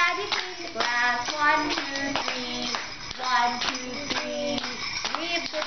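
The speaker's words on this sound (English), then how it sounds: "clap your hands to me." Children and adults in a classroom clap their hands in a steady rhythmic beat, loud and near, while a teacher sings a class song over the clapping.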